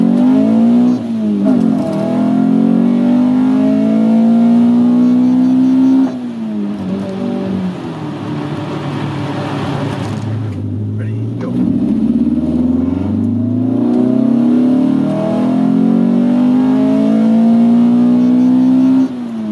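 A 1983 VW Rabbit GTI drives a road with its engine loud and close, rising and falling in pitch as it accelerates, eases off and accelerates again, with no talking.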